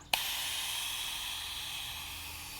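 A mist sprayer releases fine water over plants in a greenhouse garden, giving one sudden start and then a steady, close hiss that fades slightly over a few seconds.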